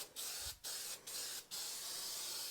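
A handheld spray bottle with a poor spray tip is pumped four times in quick succession, each pump a short, loud hissing burst of mist, with a hiss that lingers between the bursts.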